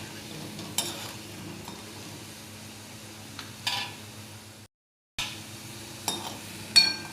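Kachori for an Ashadhi Ekadashi fasting meal deep-frying in oil over a low gas flame, giving a soft steady sizzle with a few stirring clinks of a utensil and a short silent gap partway through.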